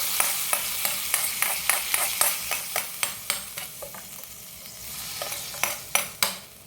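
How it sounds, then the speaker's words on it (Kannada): Hot tempering for methi seed saaru being stirred and tipped in: a run of sharp, evenly spaced metallic scrapes and taps over a soft, steady sizzle, fairly close, with no talking. "ಇನ್ನು ಒಗ್ಗರಣೆಯನ್ನು ಇದಕ್ಕೆ ಟ್ರಾನ್ಸ್ಫರ್ ಮಾಡಿಕೊಳ್ಳಿ"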